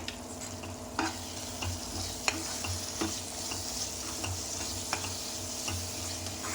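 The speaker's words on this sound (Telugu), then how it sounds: "కారపొడి పచ్చివాసన పోయే వరకు ఫ్రై చేయండి." Potato and egg curry frying in a pan after chili powder is added, with a steady sizzle and the scrape and clack of a spoon stirring every second or so, heard alone.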